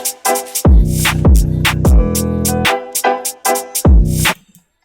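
A drill beat with its drums and a melodic sample layered together: booming sliding 808s, rattling hi-hats and sharp snares over a sustained sampled tone, loud and close, cutting out just before the end.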